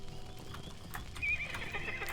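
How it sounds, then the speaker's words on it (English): A horse in the Lord of the Rings Online video game neighs and gallops, with a steady clip-clop of hooves and a louder whinny partway through. No talk is heard. "Come on, horse. Jump."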